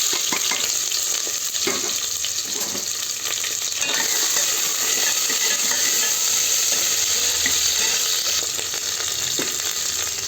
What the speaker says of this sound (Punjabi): 2 ਮਿੰਟ ਲਸਣ ਆਪਾਂ 2 ਮਿੰਟ ਭੁੰਨਦੇ ਆ ਨਾਲ ਹੀ ਆਪਾਂ ਪਿਆਜ਼ ਪਾ ਦਾਂਗੇ